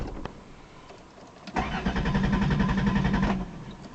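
Engine of a 1990 Chrysler Town & Country with an electrical problem cranks, catches and starts, running with a rough, loud roar for under two seconds before cutting out abruptly, leaving a quieter background hum.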